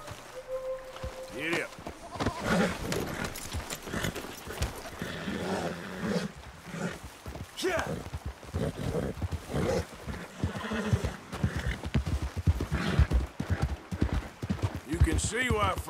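Horses in the Red Dead Redemption 2 game, heard in the Murfree Country hills. Hooves clop unevenly with faint snorts and movement sounds, partly under a voice, and grow busier and louder toward the end.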